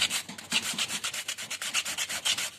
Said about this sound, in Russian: вот немножко наждачкой пройдемся здесь еще